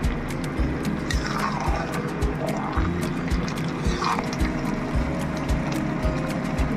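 Vegetables being stirred in a pan while a Bengali mixed vegetable curry (labra) cooks off its water: a steady sizzle and bubbling with soft scraping of the spoon, close by.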